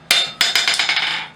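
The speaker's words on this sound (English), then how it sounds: "Be accurate with hammer blows." Hammer blows ring out on hot steel being forged into a decorative heart: one sharp strike, then a quick series of about seven ringing blows with a clear metallic tone, close and loud.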